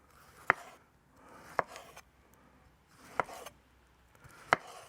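Four sharp knife strikes on a board as bad bits are cut off tomatoes, evenly spaced about a second apart with soft scraping between them, close and clear with no talking.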